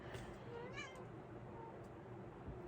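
A single short cat meow rises briefly over steady low background noise, fairly faint and close.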